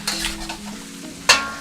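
Hot and spicy chow mein sizzling and being stirred in a pan, a steady frying hiss with scraping stirs and one sharp louder clatter near the end, close and clear with no talk.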